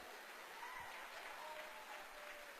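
An audience at a motivational talk in Las Vegas applauds, a faint, distant, even wash of clapping that holds steady for a few seconds.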